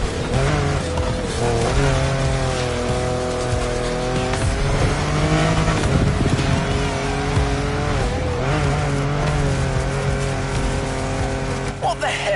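Video game car engine roaring continuously at high revs with tire squeals and skidding, loud and close throughout, with occasional talk over it.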